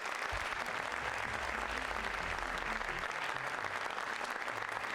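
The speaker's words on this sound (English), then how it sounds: "let's give a round of applause to Herb Silva." An audience at a US Soccer referee seminar applauds a speaker. The clapping is continuous and evenly loud, with a faint low hum underneath, for about five seconds.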